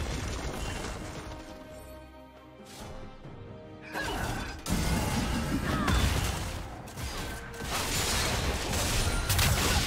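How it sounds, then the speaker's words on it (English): A turret collapses in the League of Legends video game, a heavy crashing smash with rumbling debris and metallic mechanism clatter layered over dense game music and effects, loud and continuous. "Red team's turret has been destroyed."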